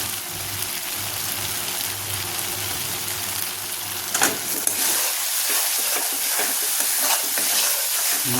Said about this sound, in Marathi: मसाला एकदम छान रित्या परतून घ्यायचा.